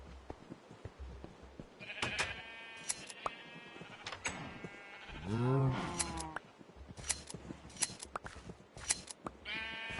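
Sheep in a video game bleat several times, one long, wavering bleat standing out midway, amid scattered sharp clicks and faint talk in the background.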